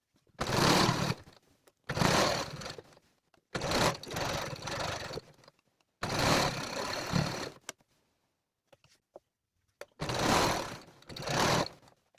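Home sewing machine stitching a thick fleece neckband, running in five loud bursts of a few seconds each with short pauses between, close up and with no talk over it.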